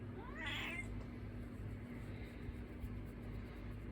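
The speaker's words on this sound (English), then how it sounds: "My cat is yelling at me." A house cat lets out one brief, faint yowling meow near the start over a steady low mechanical hum in a garage workshop, then only the droning background remains.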